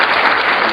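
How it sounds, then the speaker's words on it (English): Canned applause from a tabletop sound machine rings out loud and steady for under a second, a dense burst of clapping with no voices over it. "I just had to applaud to that"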